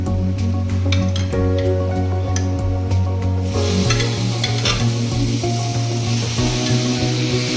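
Chicken pieces frying in oil with mustard paste in a pan, a continuous sizzle with stirring clatter, loud and close, over a steady background hum.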